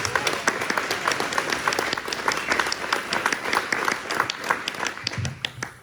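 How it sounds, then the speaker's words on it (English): A round of applause for a woman named Contessa at a community gathering in Taos, many hands clapping in brisk, uneven bursts that carry on steadily before tapering near the end. "Actually, I think Contessa deserves a round of applause"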